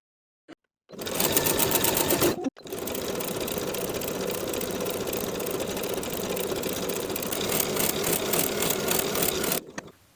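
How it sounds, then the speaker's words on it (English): A sewing machine runs a stretch stitch with a quarter-inch seam, sewing a knit neckband onto the neckline of a wrap jumpsuit. A brief start and pause lead into a long, steady, fast whir of stitching that stops near the end. "we'll sew the neckband to the neckline from one bottom center front to the other"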